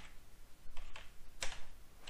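Light typing on a computer keyboard while entering a search in Windows 10 settings, a few quick key taps in short bursts, close and fairly quiet.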